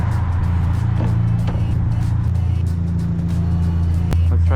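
Ford Fiesta ST driving past, a loud close engine drone with a deep steady rumble and a brief sharp transient near the end, no clear talk.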